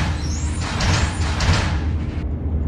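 Bus doors closing in the Roblox game on route 20 toward Blachownia P+R: a broad pneumatic hiss and sliding rumble over a low engine idle, ending abruptly with a soft clunk, no talk.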